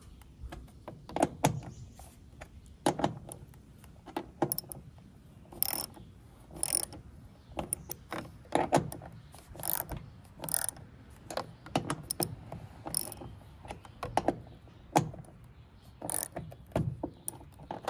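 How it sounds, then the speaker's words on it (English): A ratchet wrench clicks in repeated bursts while roof rack bolts are loosened on a Lexus GX, close and sharp, the metallic ratcheting coming in short uneven runs with brief pauses between them. "Loosen these in intervals so they break free from the roof at the same time."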